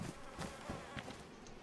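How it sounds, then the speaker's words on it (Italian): Flies buzz faintly around a corpse in a zombie survival game, a short, quiet drone with a few soft swells. "C'è anche un morto qua vicino, mi sa, sento mosche."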